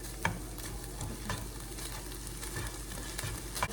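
Ground turkey cooking in a pan for Asian lettuce wraps, stirred with a utensil: soft scraping strokes at irregular intervals over a faint, steady sizzle, close and fairly quiet, with no talking.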